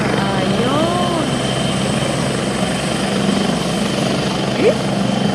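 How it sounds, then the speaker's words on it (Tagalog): A helicopter flies overhead near the Wan Chai seaside, giving a steady, loud rotor drone that blankets the scene. Faint voices and street ambience sit underneath. "Ah, yung helicopter nandito."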